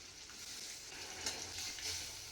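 Hilsa fish fries lightly in oil, making a faint, steady sizzle with soft crackles and a couple of brighter spits.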